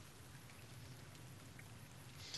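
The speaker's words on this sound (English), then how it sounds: "I love the rain." Steady rain falling in the video game Fallout: New Vegas, a dense even hiss of drops pattering without a break, fairly loud and alone.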